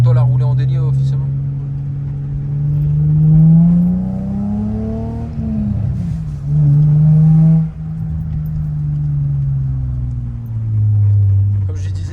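A Nissan 350Z with a Rocket Bunny kit accelerates with a loud, close engine note that rises and falls through the gears, rev sweeps climbing and dropping, and people talk over it.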